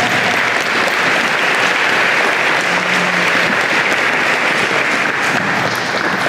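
A convocation audience for a university engineering and computer science college breaks into dense, sustained applause, steady and loud throughout, with a faint voice briefly under it.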